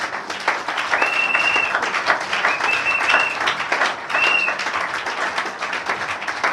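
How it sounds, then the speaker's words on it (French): A church congregation breaks into sustained applause during a pastor's sermon, a continuous wash of clapping with faint whistle-like tones rising briefly above it. "Je peux entendre des acclamations."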